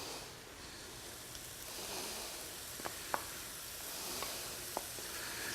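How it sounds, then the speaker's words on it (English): A roux sauce simmers in a pan with a soft, steady sizzle and hiss, broken by a few faint clicks of a spoon stirring. "Just stir that into here. Let that simmer a little."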